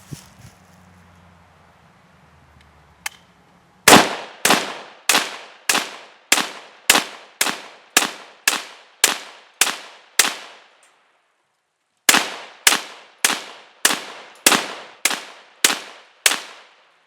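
A Ruger Mini-14 rifle fires 20 rounds from a RamLine combo magazine at a range, a steady run of sharp, loud reports with short ringing decay and one brief pause midway, after a quiet stretch of faint background rustle.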